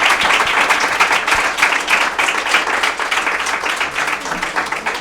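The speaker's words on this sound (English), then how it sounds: "Let's give another round of applause for Teri Speight." An audience at an evening garden-club talk on Black flower farmers and florists breaks into a sustained round of applause, dense steady clapping filling the room for the whole stretch with no speech over it.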